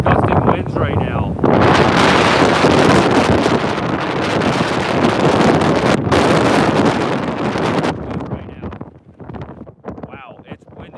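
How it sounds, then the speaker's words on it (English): Strong gusting winds of around 40 mph outdoors, a loud roaring blast buffeting the microphone for several seconds before easing into weaker, uneven gusts. "You guys all hear the wind, dude?"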